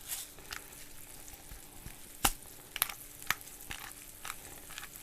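Smashburger patties of salted, peppered burger meat sizzle on a Blackstone griddle: a steady, fairly quiet hiss with scattered sharp pops and crackles, no voices.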